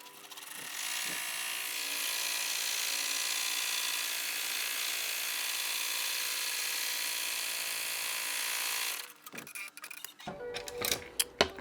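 Steady, loud mechanical whirring of an embroidery machine sewing the final bean stitch around a small in-the-hoop bear jacket, running continuously for several seconds before stopping and giving way to faint handling clicks.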